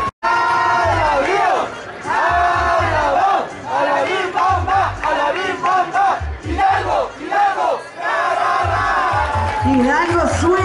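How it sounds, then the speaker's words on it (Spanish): A crowd cheers and shouts loudly for the winners of the top category at the awards ceremony of the 17th Popo Bike cycling race. The cheering is continuous and surges in waves, with voices rising above it throughout. "¡El aplauso para ellos!"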